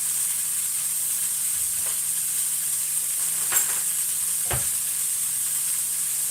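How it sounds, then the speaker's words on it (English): Beef patties for homemade burgers sizzle steadily in a frying pan, a constant close hiss with a few faint clinks and scrapes over it. "So I've got my beef patties in there, in the pan."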